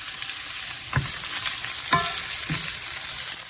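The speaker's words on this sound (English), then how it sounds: "You can put in, give it a little stir fry." Food stir-frying in a 12-inch tri-ply stainless steel frying pan, with a steady close sizzle and a few sharp scraping stirs against the metal.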